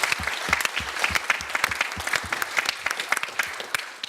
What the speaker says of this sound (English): So I want first to ask the audience to give a round of applause to our panelists for their contribution.